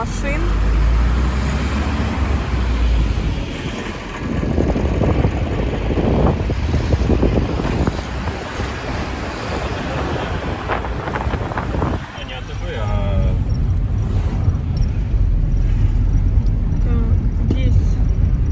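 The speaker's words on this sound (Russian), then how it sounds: "Очень много машин." Car traffic streaming along Metallurgov Avenue in Mariupol past a small street market: vehicles roll by close and loud in waves, with wind buffeting the microphone.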